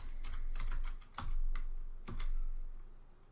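A chmod command is typed on a computer keyboard in a few short bursts of close, crisp key clicks separated by brief pauses, with a low hum underneath. Nobody speaks.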